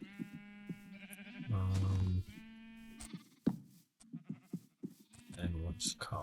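Sheep in a Minecraft pen bleat several times in short, wavering calls, mixed with someone talking and a few clicks of blocks being placed.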